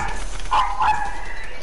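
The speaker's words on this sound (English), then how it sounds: "Your dog's barking, right?" A pet dog gives two quick, high yipping barks indoors, close by, with a faint room hum around them and no talk.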